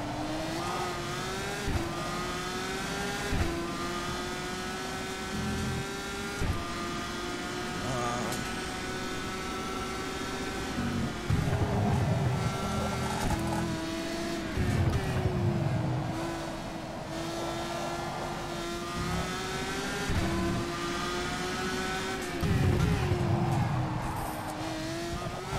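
Formula 3 race car engine in the rFactor 2 racing game at Hungary, a steady high-pitched revving whine with gear shifts and rising and falling pitch, continuous and close throughout, with occasional tire noise and a voice talking over it.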